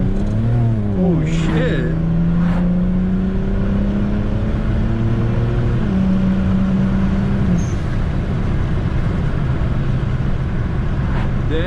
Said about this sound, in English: let's see some turbo noises. Second gear pull.